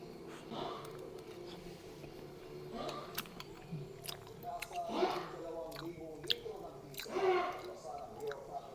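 Someone chewing food at breakfast, soft close wet bites and crunches in uneven bursts, with faint whispery mouth sounds.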